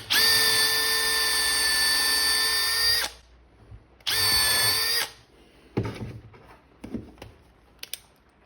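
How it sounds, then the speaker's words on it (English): A power drill pre-drills screw holes in spalted sugar maple, whining loudly for about three seconds, stopping, then running again for a second, followed by scattered knocks and clicks of handling the wood. "you got to pre-drill these because it will not work otherwise"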